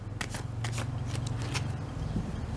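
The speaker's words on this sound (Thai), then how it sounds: "เดี๋ยวขอสับไพ่สักครู่นะครับ" Tarot cards being shuffled by hand, a steady run of close, crisp riffling and flapping bursts with no talk over them.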